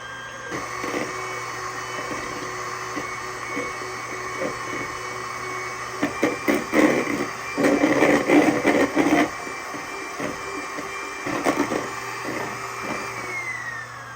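Electric hand mixer whipping egg whites toward stiff peaks for a buttermilk pie, a loud steady motor whine with beaters rattling and scraping against the bowl, swelling louder in bursts midway.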